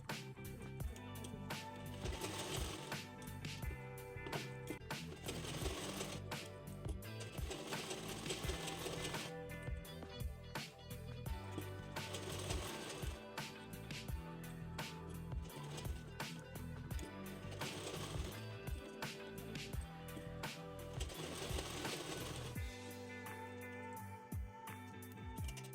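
A sewing machine stitches blouse sleeves on a four-tuck belt blouse, a continuous mechanical run lasting the whole stretch, steady and fairly loud against a dense, busy background.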